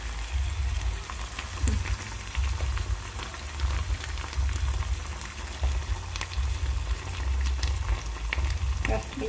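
Seitan sizzles steadily in a hot pan as soy sauce goes in, for a Vietnamese vegetarian dish braised with green peppercorns; a dense, continuous frying crackle with scattered sharper pops runs throughout.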